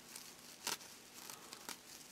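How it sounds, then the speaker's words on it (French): Light crinkling snips of scissors cutting tulle while making a fabric flower, a few brief soft rustling bursts spaced irregularly, close and quiet. "Ensuite, vous coupez un petit peu ce qui dépasse."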